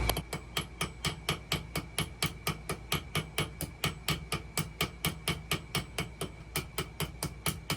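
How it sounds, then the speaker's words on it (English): A ball peen hammer peens a rivet into a mushroom head on a Camillus utility knife. Steady rapid metallic taps, roughly four per second, ring sharply and close by with no talking. "we're going to use the round part of the ball peen to make the mushroom head"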